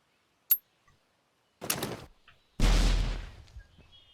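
A grenade going off in the zombie survival game Zompiercer: a sharp click, then a loud broadband blast around the two-and-a-half second mark that rumbles and decays over about a second, with a smaller burst just before it.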